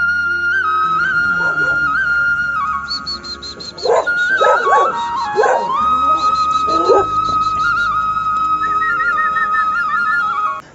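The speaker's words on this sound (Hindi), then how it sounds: "अभी कुत्ते जो हमारी तरफ भाग भाग के आ रहे थे भोंकते भोंकते" Dogs bark and yelp near a temple in a quiet natural setting while running toward the group, with short bursts of barking over a steady high whistling tone.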